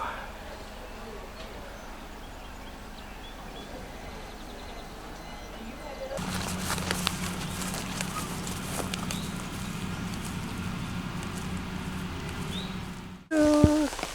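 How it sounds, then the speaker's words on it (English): Steady rain begins falling around Big Meadows in Shenandoah National Park, a soft broadband hiss that swells and stays constant over faint background ambience, ending with a brief sharper sound. "Rain has started."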